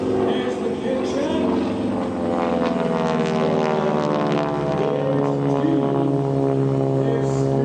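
A 5,300-pound propeller aerobatic airplane performs at an outdoor airshow, its engine droning steadily and loudly with a shifting pitch as it passes, and someone talks over the engine noise throughout.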